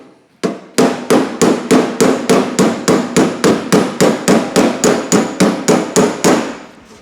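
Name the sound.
hammering mild steel on a van door skin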